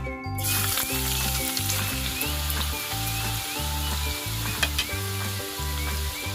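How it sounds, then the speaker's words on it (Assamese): Ginger sizzles in hot oil, a loud continuous frying hiss up close over a rhythmic mechanical hum, with no one talking. "মোৰ তেলখিনি গৰম হৈ গৈছে আৰু এয়া মই প্ৰথমতে আদাখিনি দি দিছোঁ।"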